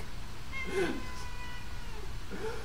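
A house cat gives one brief, fairly faint meow close by, set against a steady background hiss, with a softer cry near the end.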